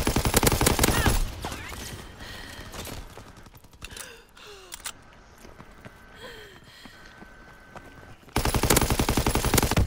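MG42 machine gun fire in Call of Duty: WWII on the Winter Carentan map, loud rapid bursts at the start and end with quieter scattered shots and gasps in between.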